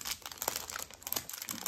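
A plastic bag from a Temu parcel crinkles and rustles in brief, close, quiet bursts as it is handled during unpacking.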